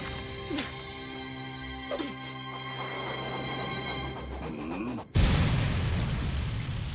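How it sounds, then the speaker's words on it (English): Anime-style cannon booms and explosive bursts sound over a steady musical backdrop, ending in a loud, sustained roaring cannon blast. "he's taking cannon blast though"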